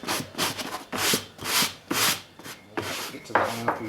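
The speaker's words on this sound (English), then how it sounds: "So there we've just done a quick brush." A stiff, coarse brush sweeps over a slouch hat in about eight quick close-up strokes, each a short bristly scrub separated by brief pauses, with no talking.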